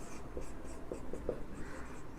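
Writing on a board during a chemistry lesson: faint, scratchy strokes come in short bursts against a quiet room hum, with no talking.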